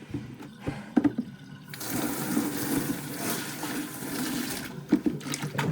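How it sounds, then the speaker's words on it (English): Water from a mop bucket pours into a sink in a steady rushing gush lasting several seconds, bracketed by clunks and handling knocks, close by. "let's get rid of some of this water. with the mop bucket."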